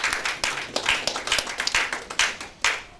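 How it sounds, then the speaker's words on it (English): Clapping from an audience at a formal ceremony introducing an honoree. Hands strike in uneven, fairly close bursts, loud and distinct rather than a smooth roar. "Can you please give him a round of applause?"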